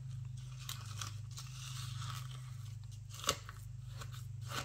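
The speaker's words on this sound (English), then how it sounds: "Crunch, crunch." Wet sand and resin paste being stirred into a mix for a beach-theme resin craft, giving gritty, scraping crunches with one sharp crack partway through, over a steady low hum.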